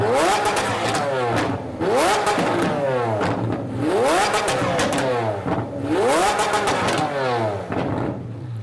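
A Lamborghini Aventador supercar engine revs hard four times in quick succession, each rising roar climbing in pitch before dropping back, with crackling pops between bursts.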